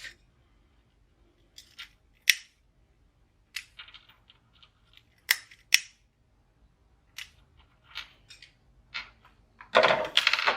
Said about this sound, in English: I'm going to cut the end of that zip off.